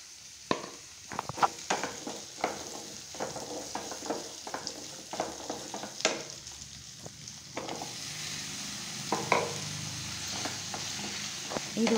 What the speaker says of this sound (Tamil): அதையும் இது கூட சேர்த்து நல்லா நம்ம வதக்கிக்கலாம்.